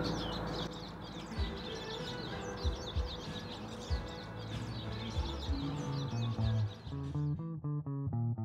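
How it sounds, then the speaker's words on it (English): Birds chirp and tweet in rapid repeated bursts over background hum and scattered thumps in a woodworking setting, ending with a series of clear, evenly spaced tonal calls, fairly close. "Bird sound."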